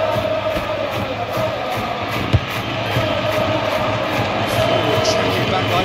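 Stadium crowd roar from a PES 21 football video game, a Real Madrid versus Valencia La Liga match, a steady broad wash of cheering and noise running throughout with one brief thump.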